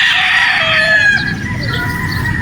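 A gamefowl rooster crows loud and close at a game farm in Batangas, one long drawn-out call that fades into softer clucking from nearby fowl.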